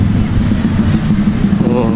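Motorcycle engines droning along a busy street in Krabi, Thailand, a loud continuous low rumble of passing bikes close by with no gaps.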